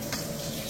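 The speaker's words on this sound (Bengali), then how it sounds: "ডালটা ফোড়ন দেব, রান্না কমপ্লিট।" Spices crackling in hot oil in a pan to temper dal in a home kitchen with the chimney fan running, a short steady sizzle with a brief stir at the start and no talk.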